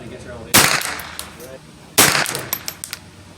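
Two sharp rifle shots from a Ruger 10/22 takedown semi-auto firing CCI ammunition at a range target, spaced about a second and a half apart, each loud and close with a short ringing decay into quiet outdoor background.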